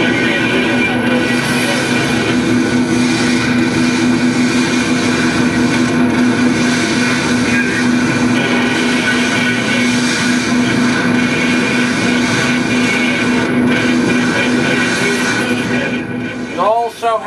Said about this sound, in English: What you're going to hear in the background are the roar of the engines.